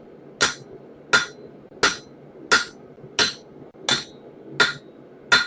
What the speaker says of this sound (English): I think really what we just need to do is hammer it smooth.